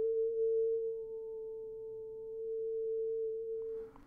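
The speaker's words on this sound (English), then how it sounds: "Now I'm gonna put it through a low-pass filter which lets through the frequencies less than A441, but dampens all the overtones." A steady A440 test tone run through a low-pass filter holds one pure, even pitch with its overtones muted, loud and alone for about four seconds before a faint click at the end.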